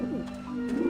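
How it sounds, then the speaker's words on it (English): Pigeons coo on a rooftop dish vent in the game Grim Fandango, soft throaty warbling phrases rolling over a steady background drone, close and clear, with no one speaking. "the pigeons obviously like this dish vent"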